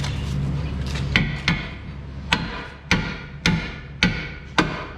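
Hammer blows strike a Lakewood drag racing shock during installation on a car, about seven sharp metallic knocks at uneven intervals over a steady low hum, close and fairly loud.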